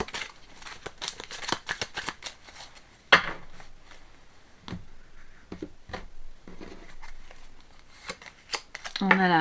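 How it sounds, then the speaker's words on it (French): Tarot cards being shuffled and drawn, a series of quick, close papery flicks and slaps with pauses between, fairly quiet throughout. "je vais encore prendre 2 cartes de tarot pour voir ce que ça nous dit"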